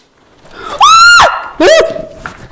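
Two loud, high-pitched screams in quick succession, the first sustained and the second shorter, trailing into quieter sound.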